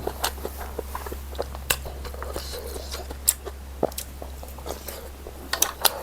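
Crispy pork rinds are bitten and chewed up close, a steady run of crunches and sharp bites with no talking, as part of a spicy noodle and meatball eating show.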